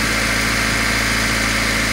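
A brand new engine idles in a Honda Del Sol with a steady, even mechanical hum and a constant low rumble, heard close up with no talk.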